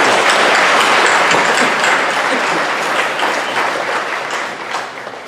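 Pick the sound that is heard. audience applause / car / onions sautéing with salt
audience applause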